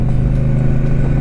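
A 2019 Triumph Speedmaster motorcycle engine rumbles steadily at low revs while riding slowly, a constant, close, deep drone with no pauses or talk.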